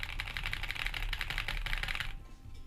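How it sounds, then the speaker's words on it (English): Fast, close clacking on a custom keyboard runs for about two seconds as a dense string of crisp keystrokes, then stops. "My keyboard sounds so nice."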